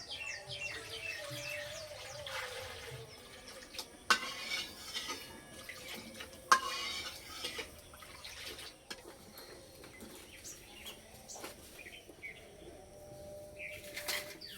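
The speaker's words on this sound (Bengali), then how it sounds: "এদিকে আমি আমগুলো পরিষ্কার করে ধুয়ে নেব।" Mangoes are washed under a running tap in a village kitchen, a soft stream of water with splashes, clinks of utensils and faint birdsong in the background.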